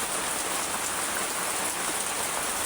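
Steady rain falls outside a house, a dense, even hiss of drops on surfaces that carries on without a break, with no voices.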